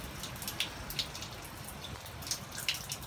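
Steady light rainfall with faint scattered drops pattering on a hard surface outdoors, soft and continuous with no voices.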